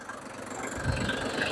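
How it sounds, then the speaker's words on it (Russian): A Shibaura D23F Japanese mini tractor diesel engine runs steadily with a low, even rumble and slight knocking texture, rising a little in intensity midway, heard alone without speech. "Легко трактор набирает обороты"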